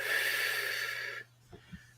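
Person slowly exhaling during a guided meditation, a long breathy hiss close to the microphone lasting over a second before trailing off into quiet with a couple of faint soft sounds.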